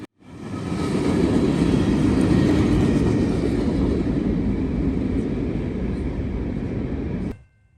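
Norfolk Southern freight train 179, with a mid-train DPU locomotive, rumbles past close by in a loud, sustained roar of rolling cars, then cuts off abruptly near the end.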